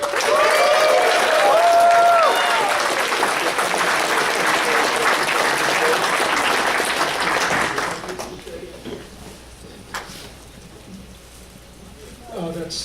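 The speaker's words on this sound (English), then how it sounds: "let's give a big round of applause and thank you to security" Audience applause for security staff at a gathering, a loud sustained patter of many hands with a few voices, cutting off sharply after about eight seconds into quieter room noise and talk.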